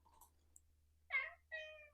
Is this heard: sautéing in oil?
no